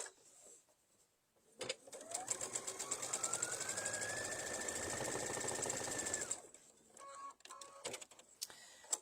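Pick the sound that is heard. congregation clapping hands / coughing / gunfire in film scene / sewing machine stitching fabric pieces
sewing machine stitching fabric pieces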